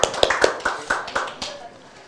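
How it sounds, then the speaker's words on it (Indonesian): A short burst of clapping for a speaker at a legal training session, about eight or nine distinct claps in a quick, slightly uneven rhythm that thins out and fades within two seconds. "Tepuk tangan buat Pak Jimmy, bagus banget, detail banget."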